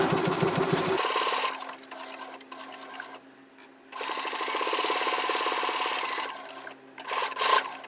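A sewing machine stitches the front facing onto a clutch bag. It makes a loud, close, steady mechanical whir in two main runs separated by a brief slowdown, and nobody speaks.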